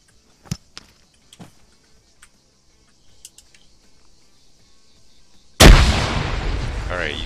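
After a few faint clicks and taps, a grenade in Arma 3 goes off with a sudden loud, close blast that leaves a rumbling tail.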